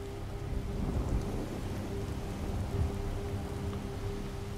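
Steady rain and rumbling thunder in the video game Skyrim at night, with a continuous low wash of rainfall and deep thunder swells rising around the first and third seconds, no voices present.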